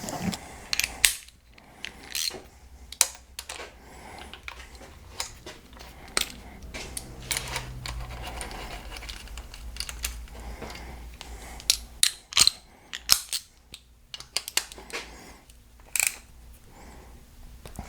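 Hand wrench tightening the nut on the exhaust tube of a 2008 Pontiac Grand Prix, quiet metallic clicks and sharp ratcheting ticks spaced irregularly, with faint handling noise between them.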